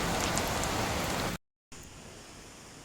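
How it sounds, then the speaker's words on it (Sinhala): Light rain falls at the Bahirawakanda hill temple as a dense, even hiss of drops. It breaks off into a short silence, then returns softer and more distant. "ඔන්න ඉතින් අපි පන්සලට ලං වෙද්දිම පොඩි වැස්සකුත් ආවා"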